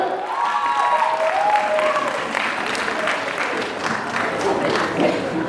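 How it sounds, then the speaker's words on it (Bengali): Audience applause at an award event, a dense sustained round of clapping from a crowd that stays loud for several seconds with voices faintly mixed in. "এই সুজন ভাই জন্য জোরে হাত তালি হবে"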